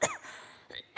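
A single short, sharp cough with a throaty burst opens the moment, followed by a faint breathy sound and another abrupt vocal burst at the end, in a quiet indoor comedy sketch setting.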